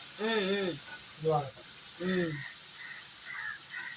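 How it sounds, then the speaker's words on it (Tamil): Boneless chicken pieces frying in hot oil, village style, give off a steady, soft sizzling hiss that runs throughout while a person talks over it in short phrases. "ஆயிலில் ஸ்ட்ரெயிட்டாக வெந்துக்கிட்டு இருக்கு"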